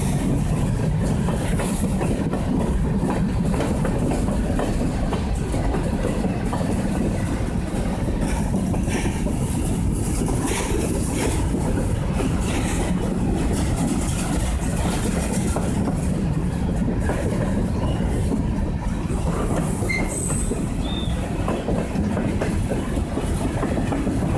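A WW Railroad freight train rolls past on the C&M Line, its cars clattering steadily and close by in a continuous loud rumble with wheel clicks, sustained to the end of the train.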